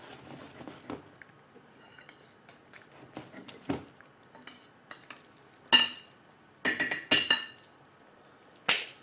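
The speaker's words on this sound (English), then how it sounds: "Just mix the corn flour." Spoon clinks and scrapes against a pot while corn flour mix is stirred into boiling curry chicken, with irregular soft taps building to a few sharper, louder clanks near the end.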